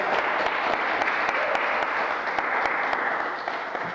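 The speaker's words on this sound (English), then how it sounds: "Round of applause." Steady audience applause fills a live show, a dense, continuous wash of many hands clapping at even loudness throughout, with no talking over it.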